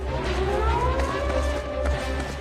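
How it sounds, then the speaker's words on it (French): Air raid sirens wail in a steady, rising and falling drone over a low rumble, sounding continuously and fairly loud, heard alone without speech. "Les sirènes se sont mises à hurler."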